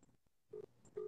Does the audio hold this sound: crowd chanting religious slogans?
no